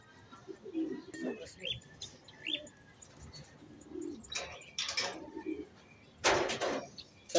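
Racing pigeons coo in a few soft, scattered calls after returning to the loft, with brief bursts of wing flapping and chirps mixed in, while people talk quietly nearby.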